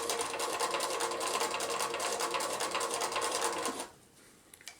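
A sewing machine stitches across the tail of a fabric grocery bag in a fast, even rattling run that stops abruptly, followed by a couple of small handling clicks.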